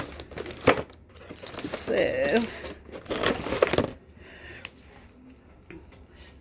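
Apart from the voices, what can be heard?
rummaging through items in a plastic tub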